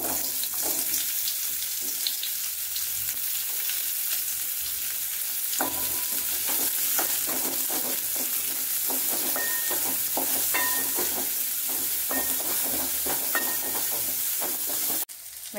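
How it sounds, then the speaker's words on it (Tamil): Small onions (shallots) sautéing in sesame oil in a kadai for brinjal tamarind gravy: continuous close sizzling with frequent spatula scrapes and clicks throughout, fairly steady and uninterrupted. "வெங்காயம் நம்மளுக்கு பாதி வதங்கிடுச்சு"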